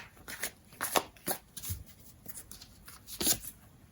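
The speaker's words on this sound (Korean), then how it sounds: "이 상대방의 입장에서 카드를 뽑아볼게요." Tarot cards are shuffled and drawn by hand, giving a quick series of close, crisp riffling and snapping bursts with short gaps between them and no talking.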